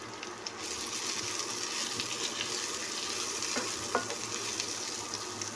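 Onions with finely chopped carrot sizzle steadily in a hot pan for breakfast, and a spatula stirs them now and then, giving a continuous close frying hiss with no one talking.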